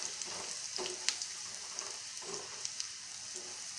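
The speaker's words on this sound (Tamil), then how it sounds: "இது மாதிரி நல்லா ஃப்ரை பண்ணிகிட்டே இருக்கணும்" Bitter gourd slices deep-fry in oil with a close, continuous sizzle and crackle, dotted with soft pops and occasional stirring sounds.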